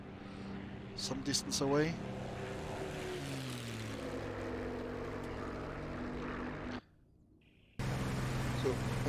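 A Bf 109 K propeller aircraft engine in the DCS flight simulator, flying in foggy, rainy weather, drones steadily with a harmonic tone under a talking voice and drops out briefly near the end.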